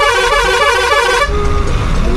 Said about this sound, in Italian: Il nostro autista ha il clacson più forte di tutta la strada